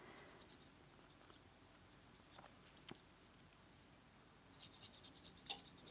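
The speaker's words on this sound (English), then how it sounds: "now I'm going to take this really pretty charcoal pencil, this bluish, and we're going to add more blue to the Diva Dance" A bluish charcoal pencil scratches across paper while adding colour to a Zentangle pattern, making quiet rhythmic strokes in bursts with short pauses, close and soft, with no talk.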